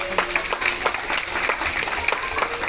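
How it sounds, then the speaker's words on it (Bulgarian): Guests applaud at a Bulgarian wedding celebration, a lively burst of clapping with some sharper individual claps standing out, fairly close and loud across the short stretch. "Аплодисменти!"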